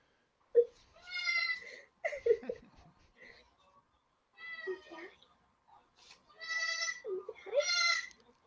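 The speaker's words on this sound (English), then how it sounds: "It's the goat. It is a baby goat." A baby goat bleats in several short, wavering, high-pitched cries close to the microphone, separated by pauses.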